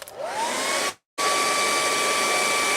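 A hair dryer blows steadily on wet paint on a sci-fi moon scene painting, a loud whooshing drone with a whine, cut off briefly near the middle before resuming at the same level.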